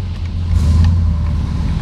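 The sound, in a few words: 1969 Chevelle Malibu 396 engine running while driving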